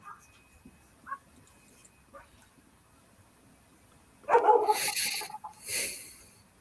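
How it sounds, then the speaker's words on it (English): A dog gives a few faint, distant yips, then a louder burst of several barks and a drawn-out howl-like bark near the end, heard over a quiet background. "is that Hillbilly's dog"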